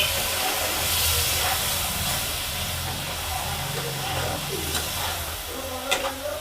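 Water poured into a hot pan of Bengali small fish curry (mourala macher jhal) sets off a hissing burst of steam and sizzle that gradually settles, with a few light clinks of a spoon near the end.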